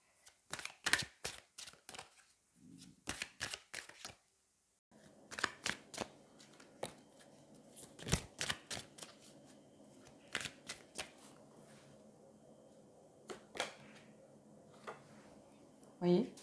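Tarot cards are shuffled and handled during a reading: brisk riffles and soft slaps in scattered bursts, fairly close, with someone speaking French between and over them.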